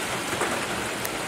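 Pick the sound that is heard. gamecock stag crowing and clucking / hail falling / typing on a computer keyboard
hail falling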